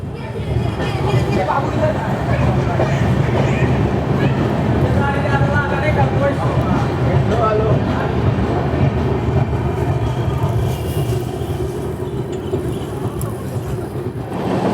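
A Tapovan Express train pulls out of Nashik Road station with a steady, loud rumble of wheels and carriages. Voices talk on and off over the noise the whole time.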